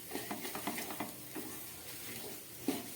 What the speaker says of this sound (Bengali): এবার এটাকে আরও 1 মিনিট মতো আমি ভেজে নেব